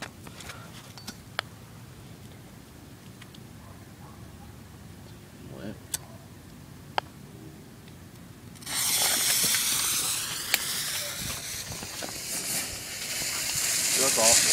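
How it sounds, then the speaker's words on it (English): Black Cat camo smoke firework lit outdoors, a quiet lead-in with faint clicks giving way to a loud, steady broadband hiss of spewing smoke that lasts several seconds and swells slightly toward the end. "this is some camo smoke from Black Cat"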